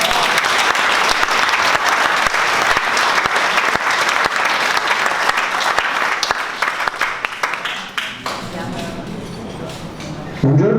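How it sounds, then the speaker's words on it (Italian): Loud, dense applause from an audience at an awards event fills most of the stretch, thinning after about eight seconds into scattered claps, a few voices and room noise before a brief final swell. "un applauso"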